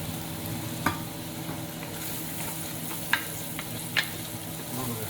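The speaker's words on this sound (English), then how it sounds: "I'm going to sweat the onions" Onions sweating in olive oil over the fire, a steady soft sizzle with occasional clinks of stirring against the pan, several seconds without speech.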